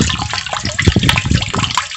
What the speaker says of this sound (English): the air and water mixture comes up here and